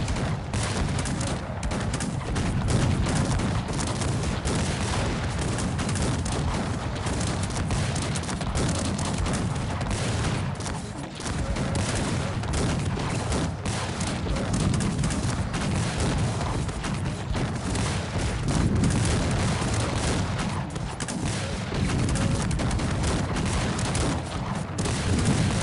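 Massed cannon and musket fire in the video game Cossacks 3 during a multiplayer battle, a continuous dense roar of overlapping booms and crackling volleys that holds steady and loud throughout.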